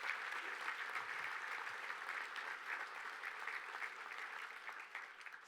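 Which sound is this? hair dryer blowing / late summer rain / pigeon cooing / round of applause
round of applause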